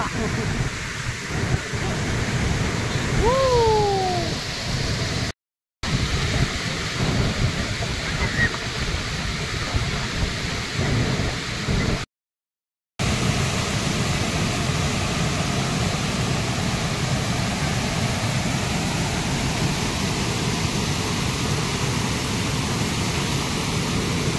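The Kuderan waterfall roars as a steady, dense broadband rush that fills the whole clip, loud and close. Two brief dropouts break it, and faint voices surface once or twice.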